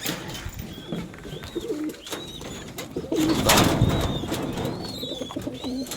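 Pet pigeons coo over and over in soft, rounded phrases nearby, with a few higher chirps and a brief rustle partway through.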